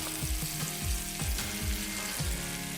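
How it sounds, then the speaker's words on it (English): Spinach sizzling in hot bacon grease in a pan, a steady crackling fry with repeated soft pops and clinks of stirring throughout. "you're then going to place your spinach into the bacon grease"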